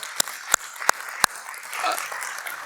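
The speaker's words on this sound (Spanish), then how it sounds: "Yo le daría una salva de palmas a Jesús solo por eso" Church congregation giving a burst of handclaps: four sharp, distinct claps ring out close and loud at a steady pace, then give way to a softer murmur of scattered applause and room noise.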